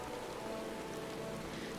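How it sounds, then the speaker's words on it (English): Steady rain falls in Final Fantasy XIV, a continuous even hiss of drops on surfaces that holds at a soft, constant level throughout with no talking. "Oh, it's raining."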